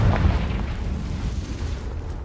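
A Confringo spell blast in Hogwarts Legacy lands as a deep, rumbling boom right at the start, then decays into a low, lingering roar.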